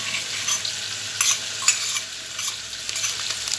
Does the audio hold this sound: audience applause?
no